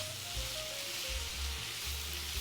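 Tofu and vegetables with onion, carrot and anchovy broth, sprinkled with chili flakes and soy sauce, sizzle steadily in a shaken pan as a soft, constant hiss with low clatter underneath and no talking.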